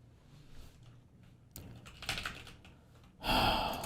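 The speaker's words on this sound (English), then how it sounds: "What, you're just typing shit in chat." Quiet clicking on a computer keyboard, with scattered keystrokes that grow into a louder burst of rapid typing toward the end.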